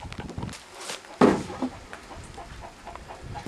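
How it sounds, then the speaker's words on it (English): A chicken on a sheep farm in South America gives a few short clucks amid outdoor rustling and faint footsteps, close by and moderately loud. "Look at that chicken."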